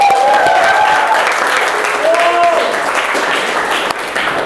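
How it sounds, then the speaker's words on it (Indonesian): Steady, dense applause from a classroom audience fills the whole stretch at a loud, even level, with no break in the clapping. "Beri aplaus untuk kita semua."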